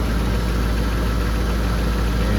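A Land Rover Discovery 2 engine runs steadily at close range, a loud, even mechanical drone with no voices over it.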